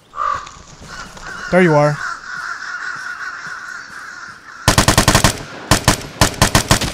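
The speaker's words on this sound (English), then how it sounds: "I thought the crows come from like where they're at" Crows caw in the online shooter Vigor, a few harsh calls near the start amid ambient game noise, followed by bursts of rapid automatic gunfire; someone speaks briefly.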